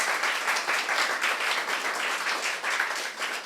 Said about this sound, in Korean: 감사의 박수를 한번 제가 보내고 싶어요.